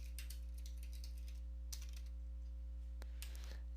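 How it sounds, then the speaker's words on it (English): Typing on a computer keyboard in Windows, with quiet, irregular key clicks in short bursts over a steady electrical hum. "we're going to type in group policy"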